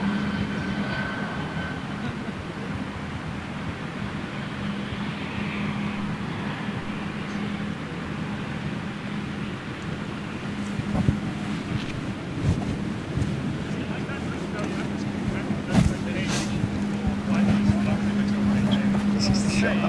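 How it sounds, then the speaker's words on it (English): A BOAC Boeing 747 jumbo jet engine starts up in the distance, a low, steady rumble building gradually beneath outdoor noise and nearby talk. "that is an engine start"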